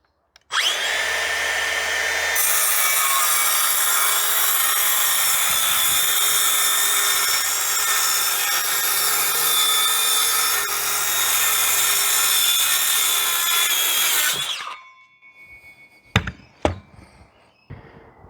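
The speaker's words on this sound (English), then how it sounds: "How have I survived without one of these cordless circular saws through my 50 odd years of life?" A Makita DHS680 165mm LXT cordless circular saw cuts through chipboard in one long, loud, steady whine of roughly fourteen seconds, then spins down and stops, followed by a few sharp knocks and clatters.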